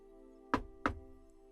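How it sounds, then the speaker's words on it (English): Two sharp knocks on a door, about a third of a second apart, sound close and distinct over a steady low tonal hum. "There was a knock on the door."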